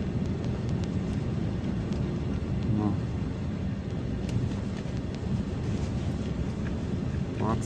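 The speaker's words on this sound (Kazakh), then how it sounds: "Северо-западный ветер дейді ғой." A northwesterly wind blows across the open steppe near Pavlodar in a blizzard, a steady low buffeting roar against the microphone that lasts throughout with only small swells.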